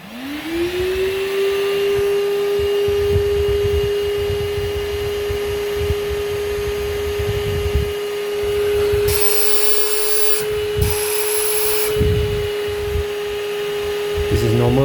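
A PerySmith Bossman Kaden PRO K3 cordless vacuum cleaner spins up to a steady high whine, holding in normal suction and then turbo mode, with someone talking over it and brief sharp noise bursts near the end.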